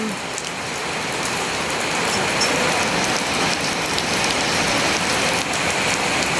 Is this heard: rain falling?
yes